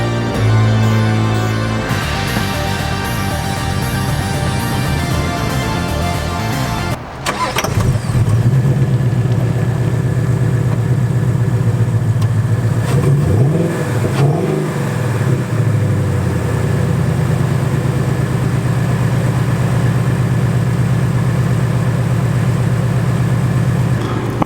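A 2018 Chevy Camaro SS V8 cranks over loudly, catches and settles into a deep, rumbling idle, with a few swelling revs partway through, close and steady throughout.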